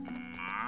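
A baby cow gives a short, close moo lasting under a second, its tone rising slightly toward the end, with no talking.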